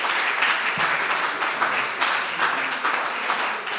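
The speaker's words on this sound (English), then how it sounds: "A big applause to them." A coding bootcamp demo day audience claps in a steady, dense burst of applause from a crowd in a hall, lasting several seconds without voices.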